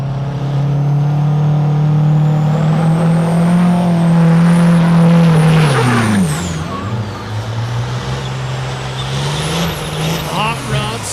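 A diesel race truck roars at high revs during a drag race, its pitch holding steady and then dropping sharply, with tire and road noise and an announcer's voice over it.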